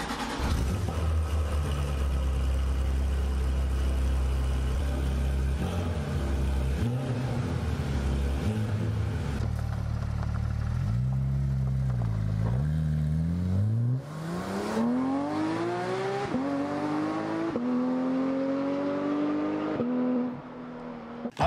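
A car engine rumbles deeply and then revs up through a series of quick gear shifts, each pull rising in pitch before the next change, loud and close with no talking.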